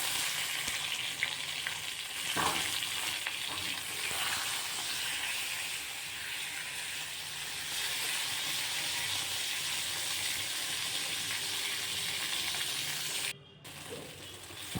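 Green chillies and tomato frying in hot oil for a vegetarian pointed gourd and potato curry give a steady, dense sizzle and hiss that runs throughout, with a faint stir early on and a brief dip near the end, and no talking.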